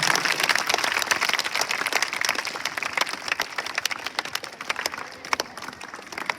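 At a school farewell function in Rajasthan, an audience applauds to welcome a guest with dense, continuous clapping. It starts strong and gradually thins into scattered claps toward the end.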